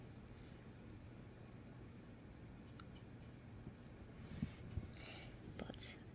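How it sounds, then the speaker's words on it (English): Steady, rapid chirping of small feeder crickets pulses on and on at a high pitch, with faint rustling and a few soft knocks underneath. "I'm gonna try feeding it some little crickets today."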